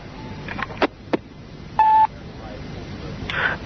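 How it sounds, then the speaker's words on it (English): Telephone keypad tones sound as a few separate beeps with gaps between them, one held longer than the rest, at moderate level over faint background hiss, with no talking. "can you ring Bernie, please?"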